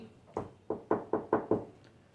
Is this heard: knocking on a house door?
yes